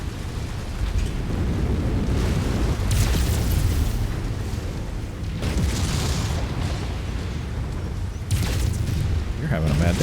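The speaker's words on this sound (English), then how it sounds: "Oh, some missiles." Heavy missile explosions in the mech combat game Mechwarrior 5 boom loudly over a constant low rumble, with sharper blasts bursting out at several points.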